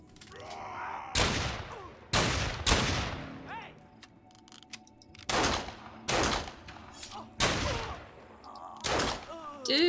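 Gunfire in the online game Fallen Earth: several loud, sharp bursts of shots, spaced irregularly across the stretch, close and dominant with brief quieter gaps between.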